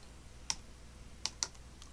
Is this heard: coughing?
no